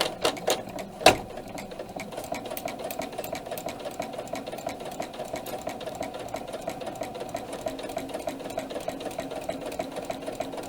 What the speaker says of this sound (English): We've got the machine running nice and slowly for the inexperienced sewer.